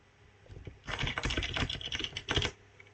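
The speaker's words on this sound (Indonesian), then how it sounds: "akan saya ketik manual saja" A computer keyboard is typed on in a fast, busy run of clicking keystrokes lasting about two seconds, close and fairly quiet, after a brief silence and with no speech.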